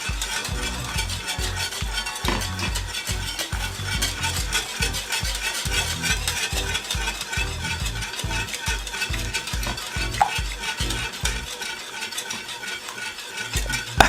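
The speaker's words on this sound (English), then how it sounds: "use a whisk and whisk it. Alright, keep whisking it on a medium size heat." A whisk scrapes and beats steadily through plantain porridge in a pot over medium heat, a fast, even rhythmic tapping and swishing that continues alone throughout.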